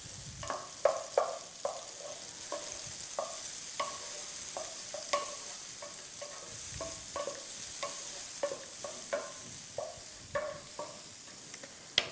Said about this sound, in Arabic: نقلي البصل.